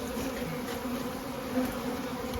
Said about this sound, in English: these bees at the entrance